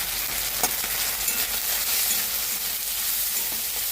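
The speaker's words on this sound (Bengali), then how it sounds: "আদাটা ফুটতে থাকে, ভীষণ ছিটাই" Ginger frying in hot oil in a pan for a light chicken curry, a continuous close hiss with scattered small pops and spatters throughout, no talking.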